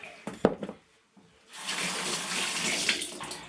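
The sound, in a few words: rinsing hands under a running tap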